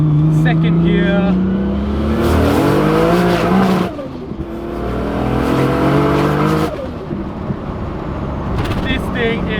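A 600HP Holden Commodore VL Turbo with a Nissan RB30 engine pulls hard in second gear, loud and close, its turbo six rising in pitch through the rev range, briefly dropping at a shift, then surging again with tire noise.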